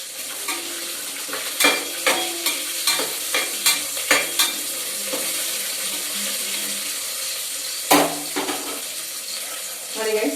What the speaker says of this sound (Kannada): ಇವಾಗ ಈರುಳ್ಳಿ ಎಲ್ಲ ಸ್ವಲ್ಪ ಬೆಂದಾದ್ಮೇಲೆ ಕಾಳು ಹಾಕ್ತಾ ಇದ್ದೀನಿ